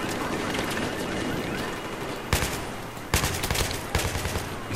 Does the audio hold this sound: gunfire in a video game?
yes